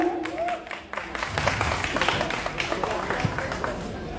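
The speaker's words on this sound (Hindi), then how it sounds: "एक बार जोरदार तालियां हो जाए एवरीवन" Audience claps at a live Lucknow stage event honoring a singer, a burst of scattered clapping that thickens into steady applause after a brief amplified voice at the start.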